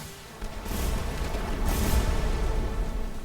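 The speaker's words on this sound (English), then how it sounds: "Cannons, fire at will." Cannon fire from an airship battle in the video game Airship Kingdoms Adrift: a few deep booming shots and rumbling blasts over a continuous low roar, no speech.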